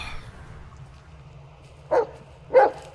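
A dog in the Blair Witch video game gives two short, fairly distant barks about half a second apart, over a low, steady background hum.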